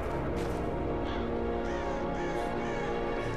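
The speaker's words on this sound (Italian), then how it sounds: "Degli uccelli, incredibile." Crows cawing in the game Rise of the Tomb Raider, several harsh calls over a steady ambient background, moderately loud with no talk.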